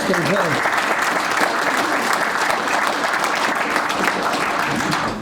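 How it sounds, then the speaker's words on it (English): An audience at an evening talk by a rabbi breaks into a round of applause, loud and steady clapping filling the whole span, with a few voices mixed in at the start. "Give them a round of applause."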